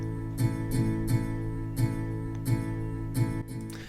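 Acoustic guitar strummed in a steady down-down-down-down-up pattern at 87 bpm, each downstroke a crisp repeated chord attack under a sustained ringing tone, played alone at moderate level.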